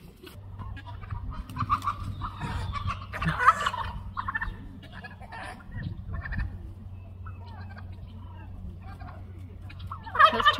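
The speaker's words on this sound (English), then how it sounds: "Those turkeys really don't like Chris at all." Turkeys on a homestead gobble in repeated bursts, some near and some farther off, over a low steady hum and occasional other fowl calls.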